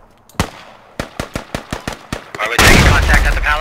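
Gunfire in the military shooter game Squad: a single shot, then a rapid string of about eight sharp cracks, followed by a dense, loud burst of overlapping fire and explosions.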